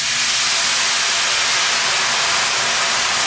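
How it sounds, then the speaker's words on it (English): Chardonnay poured into a hot pan of shrimp bisque base to deglaze it gives a loud, steady steamy hiss and sizzle that holds evenly throughout, with no voices. "That's gonna deglaze our pan."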